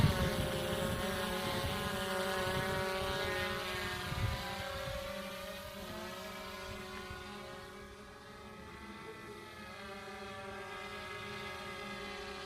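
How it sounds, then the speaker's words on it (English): A drone flying overhead, a steady droning whine with layered buzzing tones that shift slightly in pitch as it moves, moderately near and continuous throughout. "Diego is more relaxed these days when it comes to the drone"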